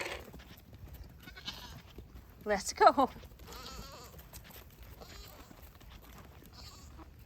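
Male goats on a homestead give a short, loud bleat partway through, close by, while someone talks over quieter farmyard background noise.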